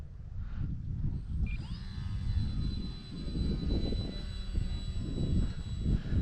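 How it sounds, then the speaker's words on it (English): Flyzone Eluna RC model glider-style plane flying overhead, a thin steady electric motor whine drifting across with slight pitch shifts, heard over constant low outdoor wind rumble. "relaxing sort of plane that just is fun just to watch glide"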